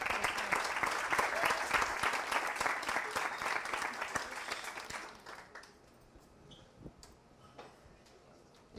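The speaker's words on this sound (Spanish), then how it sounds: "Entonces, démosle un aplauso." An audience at an evening tech talk on AI and databases applauds to welcome a speaker, a steady round of clapping that fades out midway and leaves a quiet room with a few stray sounds.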